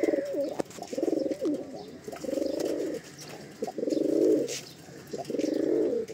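Fulsira Madrasi pigeons cooing inside a loft, with repeated deep rolling coos in several bursts, fairly close and loud, with occasional soft chirps between them.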